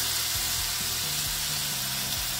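Two roughly chopped tomatoes sizzling in a hot pan for an egg curry, a steady soft frying hiss with faint crackles, close and alone without talk.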